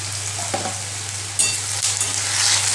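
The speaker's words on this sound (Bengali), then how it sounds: "এইখানে মাংস পেঁয়াজ দিয়ে দিয়েছি পেঁয়াজটা ভাজা করছি" Onions and meat fry steadily in hot oil in a pan, giving a continuous close sizzle with brief stirring scrapes partway through and no talking.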